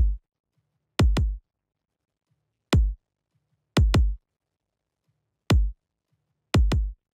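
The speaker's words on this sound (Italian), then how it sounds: "invece questo è il kick che suona" A kick drum sample in an electronic pop production, deep punchy thumps sounding alone in an irregular pattern of single and doubled hits with silence between them.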